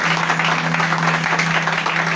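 A congregation at a Congolese prayer service for the nation applauds and cheers, with steady, dense clapping that fills the whole moment loudly and continuously, with no pause.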